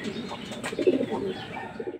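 Racing pigeons coo softly in a loft before release, a few low murmuring calls rising in the middle of a short stretch with faint bird chirps around them and no talk.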